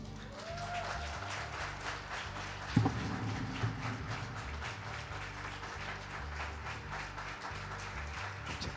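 Mothers in an audience applaud at an indoor gathering, a steady patter of many hands clapping that runs throughout at moderate distance, with a brief louder knock partway through.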